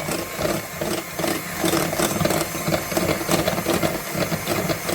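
Walnut coffee cake batter with egg, butter, vanilla and strong coffee is whisked in a bowl, giving a steady, close scraping and clicking rhythm with fast repeated strokes and no talking.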